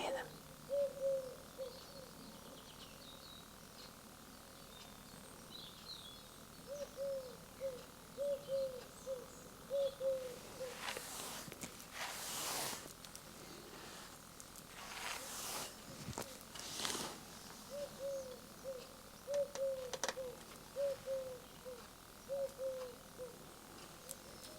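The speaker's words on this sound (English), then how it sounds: "I love the sound of those wood pigeons." Wood pigeons coo softly in repeated short phrases at a distance in a quiet outdoor setting, with pauses between bouts and a few brief rustling bursts midway.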